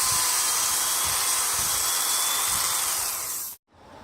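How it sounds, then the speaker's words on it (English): Corded electric drill running steadily at high speed, loud and close, with a continuous whine that stops abruptly near the end. "I've got just a corded drill"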